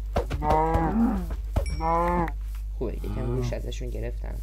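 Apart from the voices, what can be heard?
cows mooing in a video game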